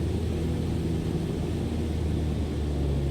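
Cessna 152 engine in Microsoft Flight Simulator 2020 as power is added on approach, a steady droning propeller hum with low rumble, loud and constant, no voice over it.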